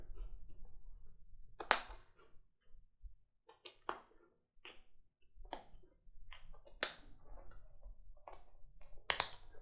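Snaps on a leather vest click shut one by one, crisp separate pops spaced irregularly over quiet handling and fabric rustle.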